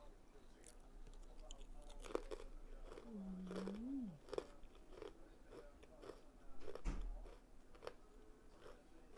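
Someone crunching a crispy banana snack up close, with repeated crisp bites and chewing crackles spread across the clip and a brief murmured voice.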